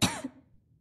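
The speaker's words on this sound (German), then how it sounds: "Oh weh, sie hustet, sie ist krank." A single short cough from a female character in the Skyrim video game, close and moderately loud, fading quickly into near silence.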